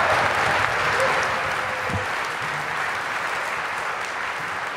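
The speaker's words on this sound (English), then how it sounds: "One more round of applause for Chaz Sonoda on clarinet" Concert audience in Schlesinger Hall applauds a clarinetist from the U.S. Army Concert Band, a steady, dense wash of clapping that holds at an even level throughout.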